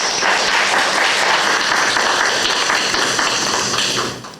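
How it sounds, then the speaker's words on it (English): Audience at the first annual CucciTalks Live women's symposium applauds themselves with dense, steady clapping that fills the room at full volume, then tapers off at the very end. "Clap it up for yourselves."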